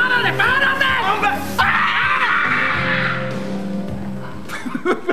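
A person screams loudly and wildly for several seconds, a long strained shriek mixed with shouting voices and crowd noise in a comedy sketch about cell phones.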